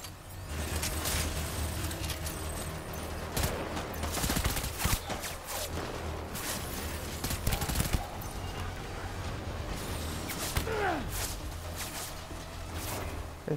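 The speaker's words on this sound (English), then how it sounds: "Who's shooting at me?" Gunfire in the video game Death Stranding, repeated sharp shots and bursts scattered over a steady game ambience, moderately loud with no speech.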